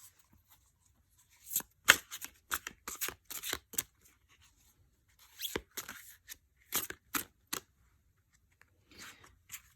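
A deck of She-Wolfie Tarot cards shuffled by hand in scattered clusters of quick, sharp card snaps, quiet but close, with pauses between flurries and no talking.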